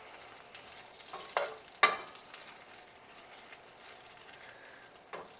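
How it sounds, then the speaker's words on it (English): Bacon cooking in a skillet gives a faint, low crackle, broken by a few sharper pops and spits spaced through the stretch. "So I'm cooking my bacon in the skillet here."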